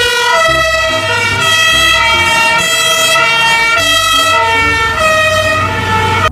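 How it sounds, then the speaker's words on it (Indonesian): A toy fire ladder truck's loud electronic siren wails steadily, its high pitched tones cycling up and down without pause, close and harsh from a small speaker. "Wow, truk tangga pemadam kebakaran."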